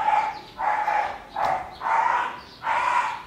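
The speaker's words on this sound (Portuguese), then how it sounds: "Começando esse vlog com muito barulho de cachorro" Dogs bark in a steady run of about five loud, close barks at the start of a vlog about building a handmade motorhome, with no one speaking.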